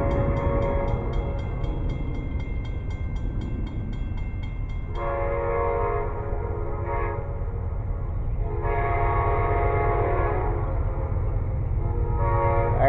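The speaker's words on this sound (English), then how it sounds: "it's another train" A train rumbles past steadily while its horn sounds in several long blasts, with pauses between them, loud and fairly near.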